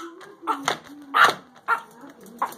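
A puppy gives short yips and small whimpering barks in a quick irregular series, close by, with people talking alongside.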